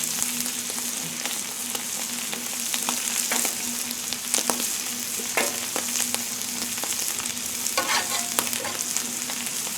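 Shrimp fry on a hot Blackstone griddle with a steady, close sizzle and scattered sharp crackles and scraping taps of a spatula, continuous throughout with no talking.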